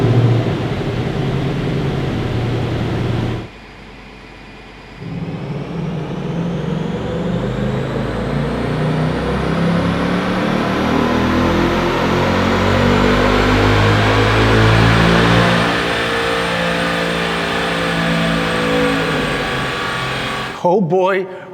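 A stock Race Red Ford Mustang GT runs on a dyno, its engine pulling in a long, steady loud rising rev for many seconds after a short idle pause, then cutting off abruptly.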